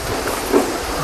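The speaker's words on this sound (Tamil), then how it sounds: "என்ன ட்ரெயின் அது?" A passing train gives a brief, steady, broad rushing rumble with hiss, fairly loud and continuous throughout the short moment.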